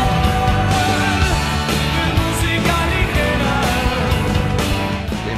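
Argentine rock song playing loud and full, with dense band instrumentation and steady drums throughout.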